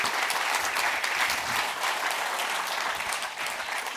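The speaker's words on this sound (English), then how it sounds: "I think they need a big applause for coming here to make that summit possible." An audience claps steadily for the speakers at a summit, a dense, sustained wash of applause that fills the space at an even level and tapers only slightly toward the end.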